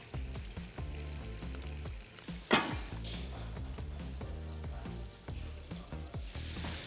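Tofu pieces frying in a deep fryer, a dense continuous sizzle and crackle held up close, with one brief sharper burst partway through and no one speaking.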